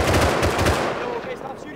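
Rapid automatic gunfire in the survival game Rust, loud bursts of repeated shots in the first part that give way to quieter, scattered battle noise.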